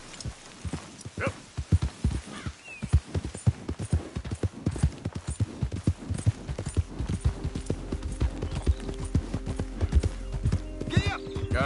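Horse hooves clip-clop steadily in Red Dead Redemption 2 as a mount trots along, a rhythmic string of close, sharp hoof beats with brief vocal sounds and a low rumble building toward the end.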